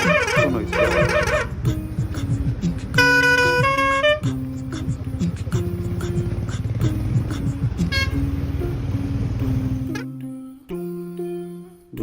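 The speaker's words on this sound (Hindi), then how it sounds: "भाई ने एयर हॉर्न बिठाए थे," Loud truck air horns fitted on a Toyota Innova blare repeatedly over road noise and a busy mix of other sounds, with a deep sustained horn tone near the end.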